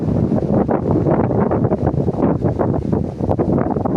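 Strong, steady wind at a paragliding site buffets the microphone, a continuous loud roar with gusty fluctuations and no voices.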